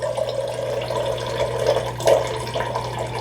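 Filtered water pouring from a Samsung refrigerator dispenser after a filter change, a steady close trickling and splashing stream into a container with a low hum underneath, no talk.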